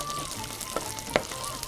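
Dough roses frying in hot oil, giving a steady soft sizzle with a couple of brief utensil clicks, close and continuous with no talking.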